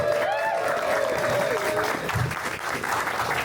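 An outdoor crowd at a Bike to Work Day event applauds to welcome the Frederick County Executive, steady clapping with cheers and a whistle-like voice rising over it, loud and close.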